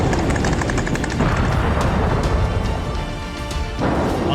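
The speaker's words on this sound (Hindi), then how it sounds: "क्योंकि आत्मघाती ड्रोन के हमले के चलते जोरदार विस्फोट हो रहे हैं।" Loud, continuous war-zone blasts from kamikaze drone strikes on military sites in Ukraine, a dense barrage of booming, gunfire-like bursts with no clear pauses.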